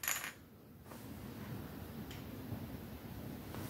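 Real dice tumble and clatter across a board game table in a quiet room, a brief sharp rattle at the start followed by a faint, continuous low rustle.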